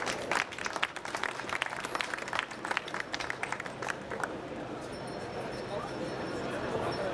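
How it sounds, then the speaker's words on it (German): Audience applause for a performer at a live event, scattered clapping for about four seconds that fades into room murmur and chatter, fairly quiet overall. "Einen großen Applaus nochmal für Michael Pfennig."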